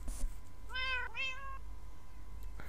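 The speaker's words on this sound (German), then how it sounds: "Scheiß Katze, ey." A cat in Minecraft gives two short, clear meows in quick succession over quiet background ambience.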